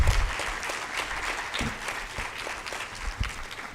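Continuous audience clapping at an academic ceremony marking Rwandan–Swedish research cooperation, full and even across the room, fading slightly toward the end.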